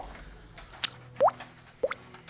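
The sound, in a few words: mouth imitating dripping water, beatbox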